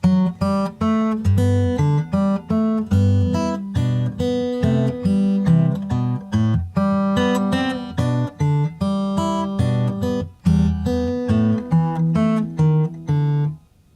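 Plucked guitar notes of Danny Boy follow one after another in an even, detached sequence, each note ringing briefly before the next, with no chords or overlap.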